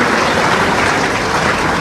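Audience at a public assembly in Raipur giving a loud, dense burst of sustained clapping that continues evenly without a break.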